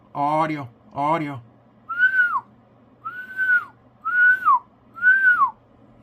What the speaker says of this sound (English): let me try whistling in this thing again